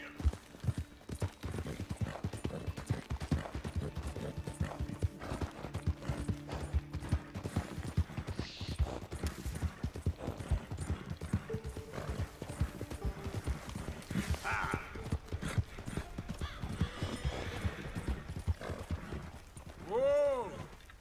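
Horse hooves clatter in a fast, steady gallop in Red Dead Redemption 2, a rapid continuous clip-clop close by, with a horse's snort or whinny near the end.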